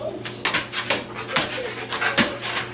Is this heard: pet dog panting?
yes